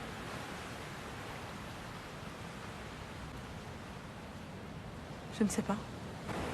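Ocean waves in a film scene at the sea, a steady broad wash of surf rolling on throughout, fairly faint and distant, with a woman's brief spoken line near the end.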